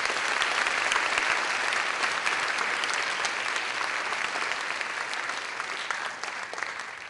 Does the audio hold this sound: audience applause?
yes